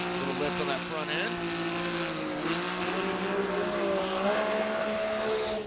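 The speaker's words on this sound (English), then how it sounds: "And that exhaust note now coming in that last outside zone." A drift car at Formula Drift Utah 2023 knockout qualifying sends its engine and exhaust note rising and falling through the outside zones, loud and continuous under a commentator's voice.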